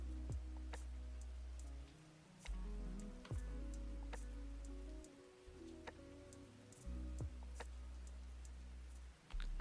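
Quiet, steady rain ambience from a lofi game scene, soft drizzle patter with scattered light drops and ticks under low humming tones, calm and continuous.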